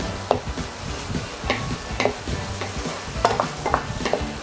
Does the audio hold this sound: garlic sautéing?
yes